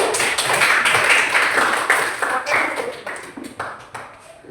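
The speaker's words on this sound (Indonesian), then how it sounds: "Kita berikan aplaus." Students applaud in a classroom during a teaching-practice lesson: dense, steady clapping from a group that thins toward the end and breaks into a few scattered claps over roughly four and a half seconds, with no talking.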